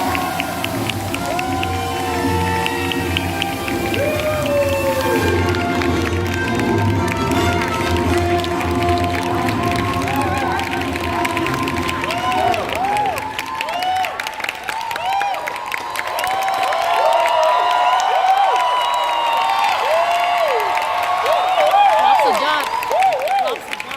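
An audience standing and applauding at a Unilever Thailand corporate event, sustained clapping and cheering from a large hall crowd that grows louder in the second half, with music and whoops mixed in.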